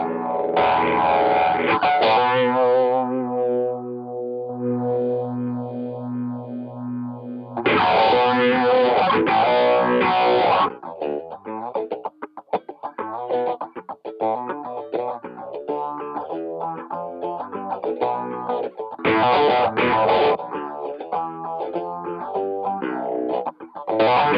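Heavily distorted electric guitar through a Boss MD-200 pedal's distortion, fuzzy, saturated tone, alternating sustained chords and choppy riffs, loud and continuous with no talking.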